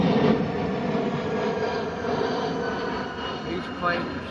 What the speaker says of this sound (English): these planes are starting to come in way too low.